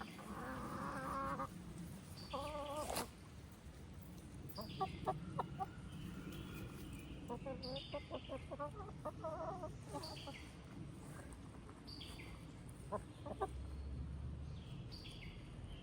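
Chickens clucking in short bursts and scattered calls, moderately quiet, with soft rustling and background noise between them.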